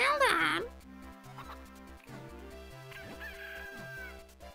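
Chicken clucks and a rooster-like crow from the Zelda game The Minish Cap, an opening burst of bird calls over a looping game music track that continues steadily underneath.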